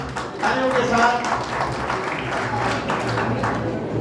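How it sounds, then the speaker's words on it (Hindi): An audience at a Jain temple quiz competition applauds a correct answer, a dense, steady round of clapping from many hands, with a voice speaking over it. "बहुत बहुत धन्यवाद तालियों के साथ"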